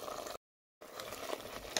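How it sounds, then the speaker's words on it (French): Crab cooking in grated onion and marinade in a covered pan, giving a steady sizzling and bubbling patter that drops out briefly, then returns with faint stirring clinks. "le crabe est en train de cuire dans tout ça"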